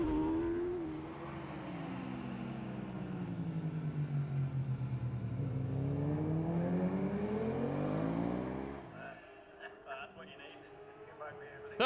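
Dean Harrison's Greenall Racing Kawasaki 750 ZXR racing motorcycle at Oliver's Mount in the Barry Sheene Classic, its engine screaming loud and close with a rising then falling pitch sweep as it passes, fading into quieter engine noise at the end.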